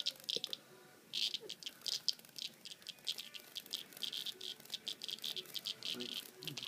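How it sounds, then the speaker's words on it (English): Rapid, pulsing cicada buzz in bursts, high and thin, fairly faint and close, repeating irregularly with no voices, as a cat catches it indoors. "June bug. Cicada."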